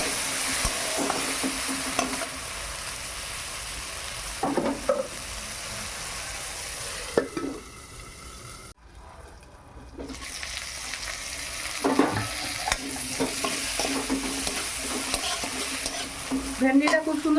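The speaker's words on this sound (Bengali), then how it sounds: "আগে ভেন্ডিটা ভালো করে ভেজে নে।" Okra frying in a pan in a village kitchen sizzles steadily throughout, with repeated stirring scrapes and a brief quieter gap midway, loud and close with no talking.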